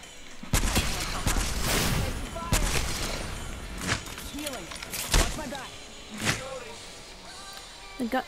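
Gunfire in the Apex Legends video game, several loud sharp shots and short bursts spaced irregularly, mixed with other game effects while a person talks over them.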